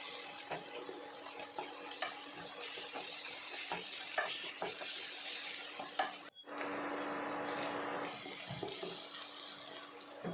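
Pepper chicken curry ingredients sautéing in a pan, a steady soft sizzle with faint stirring scrapes, continuous and close, with a brief drop in the middle before resuming.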